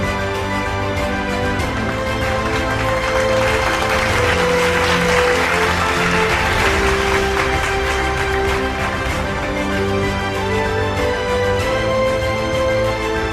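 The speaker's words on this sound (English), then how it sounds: "So that means it's also time for another powerful round of applause." Sustained audience applause at the SILF awards ceremony, steady and full throughout, with a musical fanfare playing loudly over the clapping.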